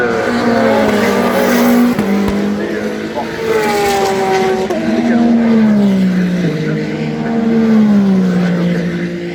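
Number 56 Porsche race car lapping during free practice at the 2023 Le Mans 24 Hours, its engine howling loudly with rising and falling pitch through gear changes as it passes, while a commentator talks over it.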